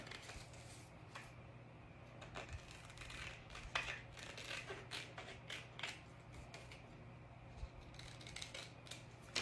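Scissors trimming a piece of craft material, a series of faint close snips and crisp cuts over a low steady hum.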